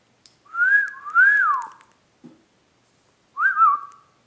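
A pet parrot does a wolf whistle, two rising-and-falling whistled notes up close, then a short pause, a faint click, and another whistled phrase in a quiet room.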